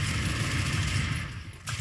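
Rapid gunfire from the Broforce video game rattles in a dense continuous burst, fairly quiet and steady, with a brief lull near the end.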